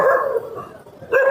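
A dog barks loudly and close by in a Goa fishing area: two full, drawn-out barks separated by a short pause.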